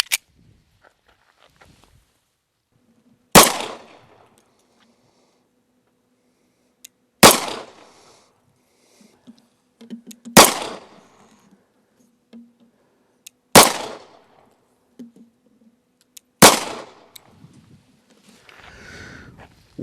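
A Rock Island Armory 1911 pistol chambered in .22 TCM fires five sharp, loud single shots, spaced several seconds apart, at an outdoor range, with quiet between the shots.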